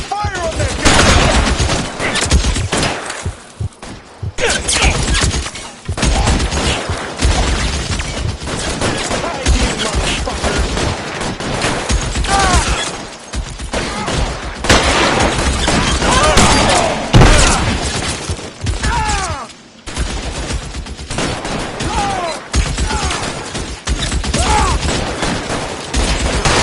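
A shootout in L.A. Noire brings repeated bursts of loud gunfire, with rapid volleys and single shots separated by short gaps, close and heavy over a long stretch, and shouted voices mixed in.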